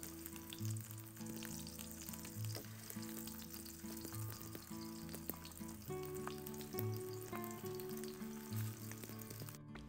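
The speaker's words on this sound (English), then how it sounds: "Add in the onion first and fry for about a minute before adding the rest of the ingredients." Onion fries in a pan for beef barbacoa, with a continuous crackling sizzle and occasional stirring clinks up close, no voices.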